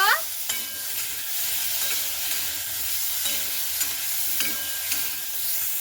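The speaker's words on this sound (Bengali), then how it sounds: "এবার হালকা করে নাড়াচাড়া করে নেব" Chopped green tomatoes with salt and turmeric are stirred in a pan, with a steady oily sizzle running throughout and occasional scraping strokes of a spoon against the pan, close and fairly loud, with no voices.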